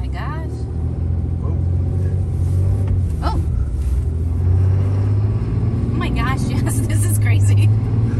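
A 2018 Ram 2500 Cummins diesel pickup fitted with a Pedal Commander accelerating hard, a loud, steady low engine rumble building throughout while people inside the cab talk and exclaim over it.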